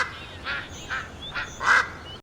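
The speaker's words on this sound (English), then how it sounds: "when you click them, they'll do a little quack noise" A duck pet in World of Warcraft quacks in a short run of about four soft quacks. Each is a little louder than the last, with no other sound.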